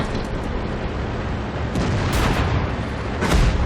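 A T32 heavy tank's cannon fires in World of Tanks, a deep booming blast over a dense, continuous roar of battle noise, with a louder low thump near the end.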